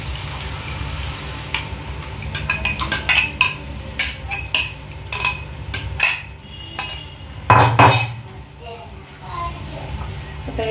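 Ground spinach puree is stirred into a palak paneer in a pan, with a spoon scraping and clinking against the metal in irregular bursts while someone talks throughout.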